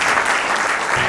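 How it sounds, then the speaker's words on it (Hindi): Loud, dense applause from a large audience at an evening event, a continuous roar of clapping hands filling the whole moment with no gaps. "तालियां"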